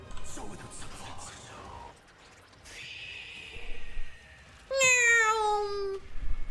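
A cat's single drawn-out, falling meow rings out clearly in Honkai: Star Rail, following a stretch of game effects and spoken voices.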